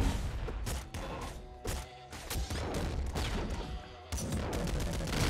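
Rapid bursts of gunfire from the top-down shooter game Nuclear Throne, dense overlapping shots and small blasts pounding steadily throughout with brief gaps.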